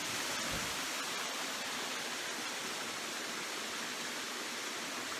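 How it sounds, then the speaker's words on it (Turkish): Water pours down in a steady, unbroken rush, a dense hiss like a waterfall close by, heard from a stream bed, with nothing else heard. "Arkamızda şelale, ben dere yatağındayım şu anda."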